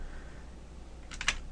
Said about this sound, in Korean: 키보드 상에서 딜리트 키를 눌러주게 되면